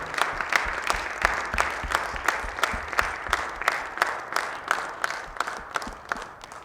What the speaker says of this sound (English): can we have a round of applause for General V P Malik